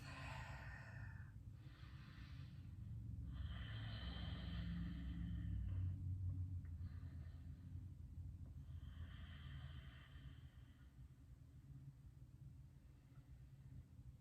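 Slow, deep breaths drawn in and let out during a twisting yoga pose in a slow, deep power flow class, soft and close, with a few long airy exhales and no talking.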